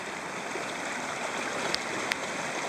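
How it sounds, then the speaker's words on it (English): Fast-moving water of the Potomac River at a kayaking spot, a dense, steady roar of rushing current filling the whole stretch, with a couple of faint brief clicks over it and no talking. "The water's moving pretty fast."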